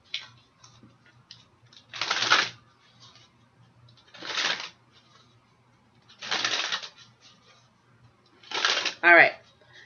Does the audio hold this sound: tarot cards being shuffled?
yes